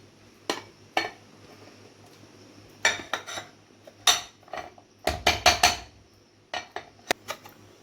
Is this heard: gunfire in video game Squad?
no